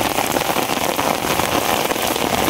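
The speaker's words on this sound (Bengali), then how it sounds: "বৃষ্টির কারণে কিছু দেখা যাচ্ছে না, যে এত পরিমাণ বৃষ্টি হইতেছে" Heavy rain pours down steadily on an open riverside char during a fishing trip, a dense, unbroken roar of drops close around with no voices.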